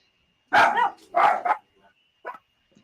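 A dog barks near the microphone during a casual hockey chat: two loud barks in quick succession, then a shorter, softer yip after a pause.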